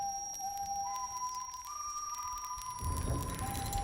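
A sustained whistled tune from the wolf villain in a kids' movie, a thin pure tone gliding upward in steps and holding steady, over quiet background with a low rumble swelling near the end.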